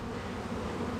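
A honeybee swarm hums close up, a dense, even buzz of many bees clustered around their queen, quiet and unbroken with no voices.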